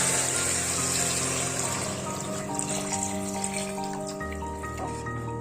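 Water poured from a bowl into a pot of biryani masala for dum chicken biryani, a steady close pouring wash with sizzling bubbling underneath, running continuously with no talk.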